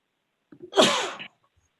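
A single sneeze during a public hearing, close and sharp, with a short inhale before the burst.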